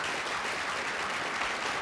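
A steady burst of hand clapping from many people, dense and even throughout, with no talk.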